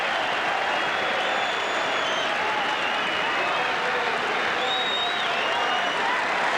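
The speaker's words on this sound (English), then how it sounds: "The crowd really yelled themselves hoarse. Not one person has left their positions in the stand as they cheer this great champion." A record racecourse crowd at Moonee Valley cheers and applauds champion racehorse Might and Power, a steady roar of clapping and distant yelling that fills the whole stretch without letting up.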